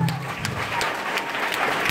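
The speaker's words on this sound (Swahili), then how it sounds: "Halo, piga makofi kwa Yesu Kristo." A church congregation in Dar es Salaam claps hands together in a brisk, dense burst of applause, with a voice faintly underneath at the start.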